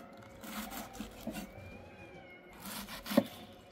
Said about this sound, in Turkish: Çocuk gibi miyavlıyorlar vallahi.